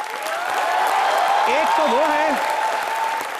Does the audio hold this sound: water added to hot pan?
no